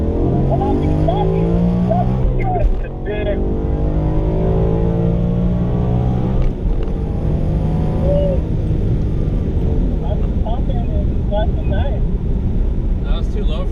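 A Mazda Miata and a Kia Stinger race side by side, giving a steady, loud engine drone with gear changes and a brief dip in revs, while people talk over the noise throughout.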